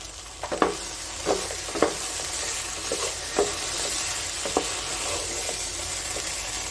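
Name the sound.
frying ghee-fried okra with prawns in a pan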